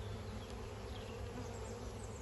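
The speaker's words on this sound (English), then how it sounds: "I can see bees with pollen on their legs." Honey bees buzz in a dense, continuous hum close by during a hive inspection at an apiary, steady and unbroken with no talking.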